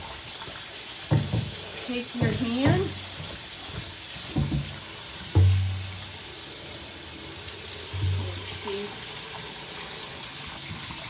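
Warm water runs from a tap into a stainless steel utility sink, a steady broadband wash with hands splashing and moving through it in short bursts, while a person talks over it.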